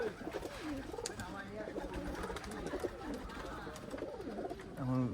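Pigeons coo softly and repeatedly in low, throaty rolls, close by, with a continuous murmur of other birds around them, at a pigeon loft in Khulna, Bangladesh, at dusk.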